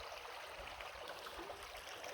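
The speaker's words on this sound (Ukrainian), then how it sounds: "Бачите, яка швидкість води." Continuous rushing of fast river water over small rapids made by beavers, a steady, faint, broad wash heard alone.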